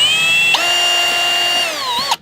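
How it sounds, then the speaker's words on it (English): A power drill whines steadily at high pitch, biting through a plastic casing of a greenhouse misting system for about two seconds before stopping abruptly; close and loud. "So I just got to drill through the casing here."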